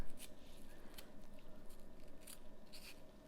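A knife carves a small mouth into a slice of apple, giving faint, close crisp cuts and soft snips in short bursts over a low steady background hiss.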